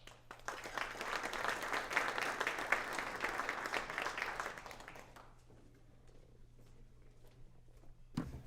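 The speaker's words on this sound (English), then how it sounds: "Thanks for the round of applause" A seminar audience on population health management applauds as a benefit consulting presenter takes the stage, dense clapping for about five seconds that thins out and fades, followed by a quieter stretch and a brief burst of noise at the end.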